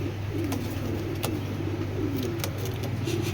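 Racer pigeons, a pair with red or stone-coloured eyes, cooing softly in repeated low calls over a constant background hum, with a few sharp clicks and no talk.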